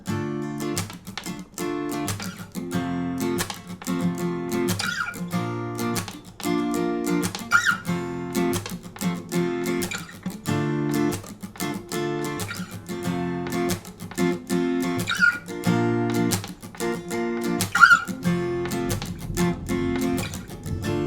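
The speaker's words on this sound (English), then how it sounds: "you're going to do a 16th note strum and you're going to" Acoustic guitar strummed in a steady, fast sixteenth-note rhythm with percussive muted chucks mixed between the chords, played alone and close.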